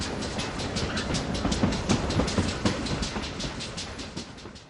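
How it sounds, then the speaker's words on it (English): Armored train rolling along the tracks in the WDS Poland 39 war game, a steady loud rumble with rhythmic clickety-clack of wheels over rail joints running through the whole stretch. "Holy moly, are we rolling the train right into those dudes?"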